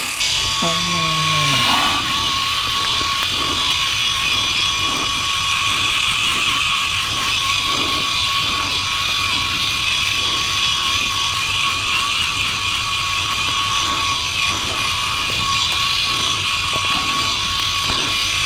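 A Philips i9000 electric shaver buzzes steadily and continuously through the whole stretch, a constant close mechanical drone with faint rhythmic scraping as it moves over the back of the scalp.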